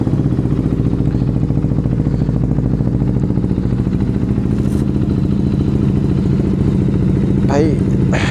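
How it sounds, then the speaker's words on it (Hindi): A third-generation KTM Duke 390 motorcycle idles steadily after a cold start, a close, loud, even engine drone with a brief higher whir near the end. "गाइस फटाफट से करते हैं कोल्ड स्टार्ट बाइक को।"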